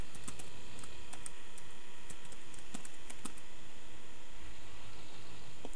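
Sparse, quiet keyboard clicks tapping out a few scattered keystrokes over a faint background hiss.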